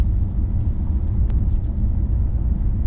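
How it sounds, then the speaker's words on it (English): Inside a quiet 2014 Mercedes-Benz S63 AMG with a V8 cruising at about 60 km/h in comfort mode, a low, steady road and engine rumble fills the cabin, with no talking. "we're just driving around about 60 k's, and it's very quiet in here"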